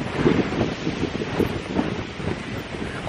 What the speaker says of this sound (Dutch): want het waait heel hard.